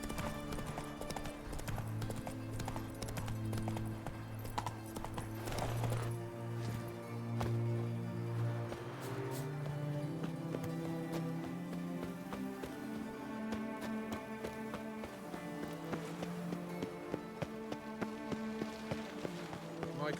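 The horse Roach gallops in The Witcher 3: Wild Hunt, with rhythmic clip-clopping hooves running steadily under game music and occasional voices.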